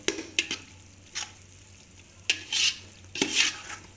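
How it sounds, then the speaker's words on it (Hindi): Bitter gourd (karela) frying and being stirred in a pan: several sharp scraping stirs and bursts of sizzle, close and moderately loud, with quiet gaps in between and no talking. "हुण असीं इहनूं अच्छी तरह भुनांगे"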